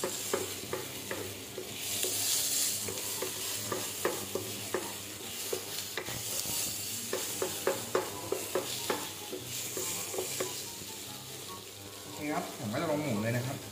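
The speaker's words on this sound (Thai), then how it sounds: "แล้วผัดไปก่อนนะครับ คือพริกกับกระเทียมเวลาโขลกเองมันจะหอมนะครับ" Pounded chilli and garlic stir-fry in a pan with a lively sizzle and a steady run of sharp spatula scrapes and taps. Someone speaks over the cooking.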